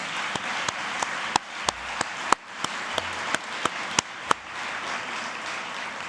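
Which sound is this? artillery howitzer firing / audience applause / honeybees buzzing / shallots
audience applause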